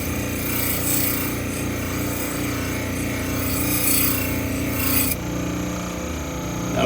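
A Japanese knife grinds steadily against a 600 grit abrasive, producing a loud, continuous rasping whir with a machine drone underneath that shifts in tone partway through.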